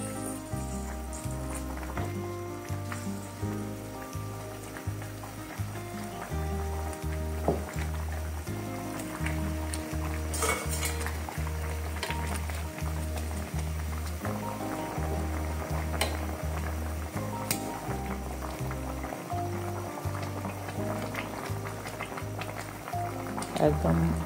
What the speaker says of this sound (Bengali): মাংসটা সিদ্ধ হচ্ছে এবং মেরিনেটটা খুব ভালো হয়েছে